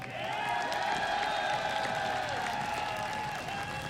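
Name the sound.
audience applause at esports event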